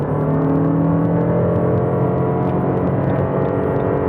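A 2023 Lexus NX 450h+ plug-in hybrid SUV accelerating, heard as a steady, smooth, continuous drone with a rising hum, loud and close throughout with no talk.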